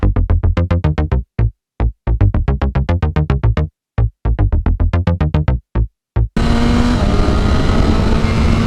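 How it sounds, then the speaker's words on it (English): A 2021 BMW S1000RR motorcycle being ridden, loud and close, with a rapid series of sharp engine bursts broken by short gaps, then a steady continuous roar near the end. "Under my legs I have the wonderful 2021 BMW S1000RR."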